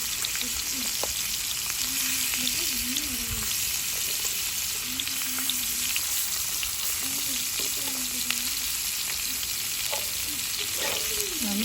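Fish frying in a pan at night, oil hissing and sizzling steadily throughout with occasional stirring clicks, close and loud, a faint voice briefly in the background.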